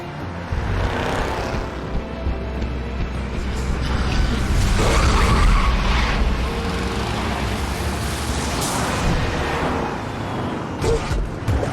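Car traffic and skidding tires in The Wolf Among Us, a loud rumbling road wash with swelling engine noise and a few sharp scraping squeals across several seconds.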